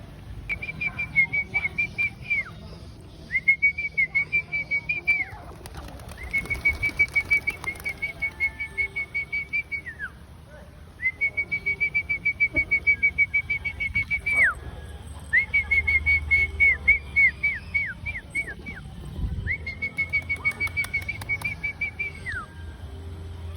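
Repeated bursts of rapid wing flapping from pigeons, each lasting a second or two, mixed with a sharp whistling tone and faint background voices.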